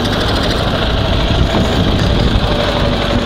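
A Ural (Dnepr) motorcycle engine runs loud and close as the throttle is worked, a dense continuous rumbling roar that holds steady without clear separate rev peaks.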